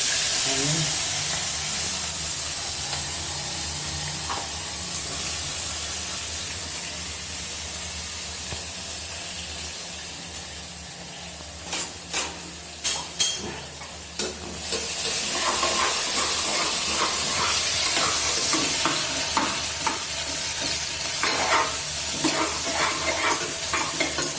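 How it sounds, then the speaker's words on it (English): Masala spices for veg pulao frying in a pan, heard as a steady close hiss and sizzle, with scraping stirring clatters partway through. "so I'm just going to add all the masalas in this"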